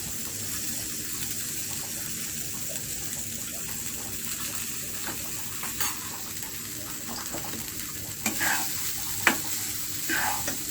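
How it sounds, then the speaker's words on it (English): Leftover lunch rice frying in a pan gives a steady, moderate sizzle with occasional stirring scrapes and clinks toward the end. "Now I will continue the frying"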